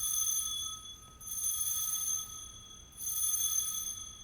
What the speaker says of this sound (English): When you hear this bell,